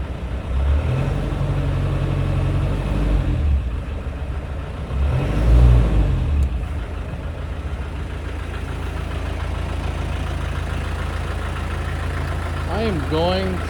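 A Land Rover 110 with a 300Tdi diesel and 5-speed runs steadily close by after a cold start, with two brief throttle blips swelling the idle, while someone talks in the background near the end.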